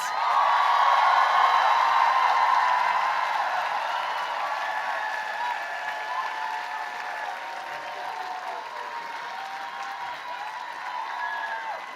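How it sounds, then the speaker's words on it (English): An audience at the Agnes Scott College commencement claps for master's graduates: a steady wash of applause from a large crowd, strongest at the start and gradually thinning, with no talk over it. "Let's give them a round of applause."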